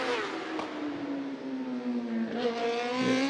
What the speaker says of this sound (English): She's on a super stock bike again, a 2021 R1.